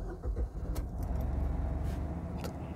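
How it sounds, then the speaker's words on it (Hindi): A 2024 Maruti Swift VXI with a 3-cylinder petrol engine starts up, a short crank followed by a steady, close idle rumble with light vibration, no speech over it. "एक बार इसको स्टार्ट कर लेता हूँ"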